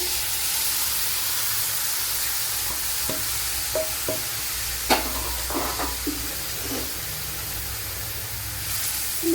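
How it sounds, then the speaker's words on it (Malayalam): Cooked breadfruit stirred in a hot frying pan, a steady low sizzle with scattered light scraping taps of the spoon throughout. "ഇനി ഇതിലേക്ക് വേവിച്ച് വെച്ചിരുന്ന ശീമച്ചക്ക ഇട്ട് കൊടുക്കാം"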